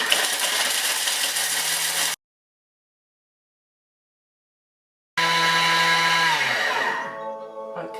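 A Thermomix TM6 grinding hard parmesan cheese at full speed 10: a loud, harsh whirring buzz, a sudden three-second silence, then the same roaring grind resumes and begins winding down near the end.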